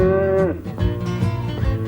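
Cows moo, one long, loud low call that slides down at the end, followed by lower, rougher lowing sounds, with no talk.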